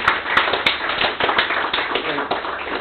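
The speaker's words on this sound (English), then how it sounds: "we should give her a round of applause" A meeting audience gives a dense round of applause, many hands clapping steadily and close, with a few sharper taps standing out and a voice speaking over it.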